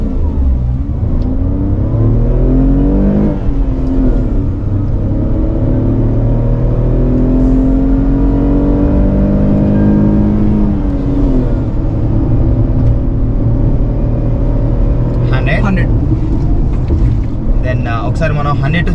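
A Tata Punch car accelerates hard from standstill toward 100 km/h, its engine note rising steadily through the gears with loud, continuous road and wind roar from inside the cabin, ending with faint clicks.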